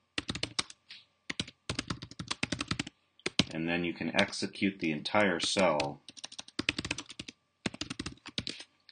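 Rapid clicking of keys on a Windows computer keyboard in bursts while entering Python commands, with someone talking in the middle stretch between the typing runs.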